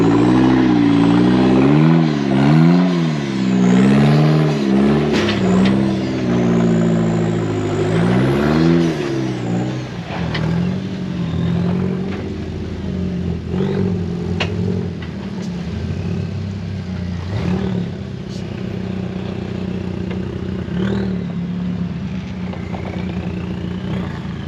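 An off-road car climbing rocks revs hard in repeated wavering surges. The engine then settles into a lower, steadier drone with occasional clanks and knocks from the rough terrain.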